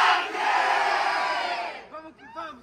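A rap battle crowd at the grand final of Batalha Da Leste in Itaquera roaring in a loud, sustained group shout that swells and holds, then breaks into scattered cheers and individual yells as it fades.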